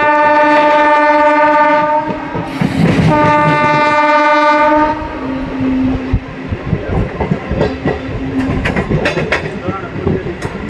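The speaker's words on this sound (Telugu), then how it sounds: "మన ట్రైన్ అయితేనండి తెనాలి జంక్షన్కి అయితే వచ్చేసిందండి" Passenger train pulling into Tenali junction, a loud sustained horn blast opening the scene, then rolling wheel clatter and rumble continuing close by with background crowd noise.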